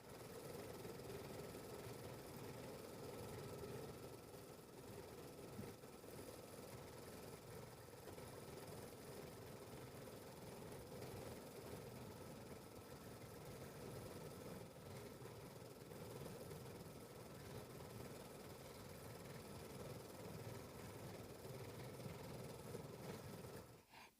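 An embroidery machine stitches out a rainbow-colored quilt block, a steady mechanical hum and rapid needle rattle running continuously and evenly at moderate volume with no voices.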